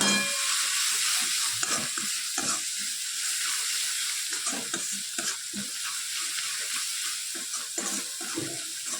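Leafy vegetables with garam masala, coriander-cumin powder and salt are stirred and sizzle in a pan, a constant hiss with repeated scraping pushes of the spoon, close and without voices.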